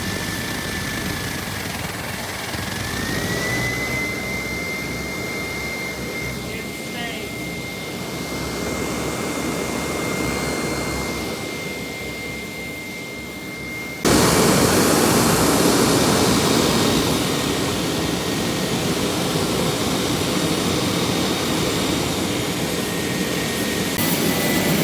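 A banjo burner runs on blower power with a loud, steady roaring rush and a faint high whine. Partway through the roar jumps abruptly louder and brighter, then holds steady, close by.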